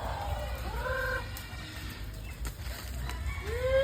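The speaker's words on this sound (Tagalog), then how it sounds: "Ganyan lang magpapasok ng manok." Chickens cluck and squawk close by, rising calls over soft rustling and a little wing flapping.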